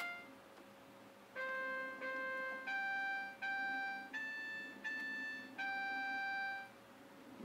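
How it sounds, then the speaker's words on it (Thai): A toy keyboard piano set to its trumpet voice plays a simple tune of sustained, buzzy electronic brass-like tones, roughly eight held notes in a steady sequence, near and clean with no voices. "แล้วก็เสียงทรัมเป็ต"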